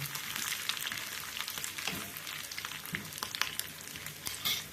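Cashews fry in a pan for temple-style pongal, giving a close, continuous crackling sizzle with small pops and occasional stirring scrapes.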